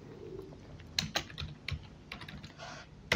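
A search is typed on a computer keyboard as a few sparse, quiet key taps and clicks. The sound is close and the room is otherwise hushed.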